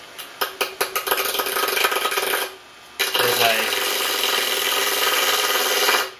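A homemade disk sander wheel spins up to full speed, starting with a few rhythmic thumps as it accelerates, then settling into a loud, steady whirring hum up close.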